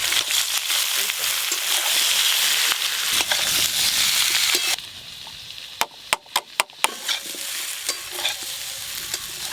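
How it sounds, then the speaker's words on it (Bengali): Boiled jackfruit frying with potatoes in a pan, a loud dense sizzle and hiss with stirring that quiets midway into a run of sharp clacks and scrapes of a spatula on the pan, close up. "সিদ্ধ করে রাখা এঁচড় আলুর সঙ্গে ভেজে নেবো।"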